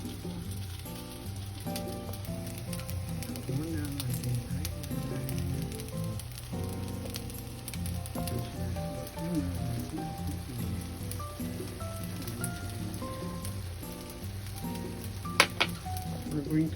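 Pad kra pao fried rice stir-frying in a pan, a steady crackling sizzle close by, with faint background talk and music.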